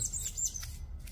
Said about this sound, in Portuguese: Enquanto isso, o pássaro cantando, né? Olha que coisa linda.